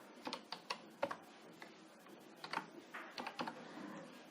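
Someone types a password on a computer keyboard, the keys clicking in irregular close bursts with short pauses between strokes, no voices.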